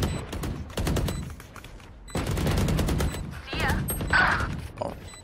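Gunfire in the Valorant video game comes in several rapid bursts of close, loud shots separated by brief gaps, with faint game effects between them.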